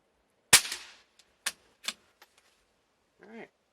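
CCI 22 Quiet .22 LR rounds fired from a rifle at a 25-yard range: a sharp single crack followed by a few lighter metallic clicks, with a short voice near the end.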